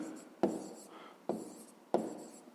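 Pen on paper as a Grade 5 maths exercise is written out by hand, soft scratchy strokes punctuated by three sharp taps at regular intervals, quiet and close with no talking.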